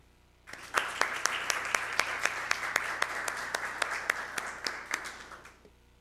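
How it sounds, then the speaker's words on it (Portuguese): Steady applause from an audience at a youth city council session swearing in a new junior councillor, many hands clapping together for about five seconds with sharper individual claps standing out, then fading. "Uma salva de palmas."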